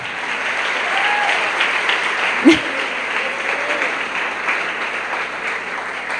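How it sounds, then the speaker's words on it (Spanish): Steady applause from an audience at a women's church conference, a dense even wash of clapping that holds for several seconds with one brief louder knock partway through. "Bríndenle un fuerte aplauso a estas dos guerreras"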